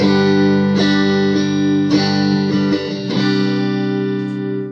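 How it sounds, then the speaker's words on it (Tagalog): Electric bass guitar played through the neck pickup, notes with a warm, round tone, several plucked notes sustaining and sliding into one another, loud and close with no talking. "Ito po yung tunog ng neck pickup."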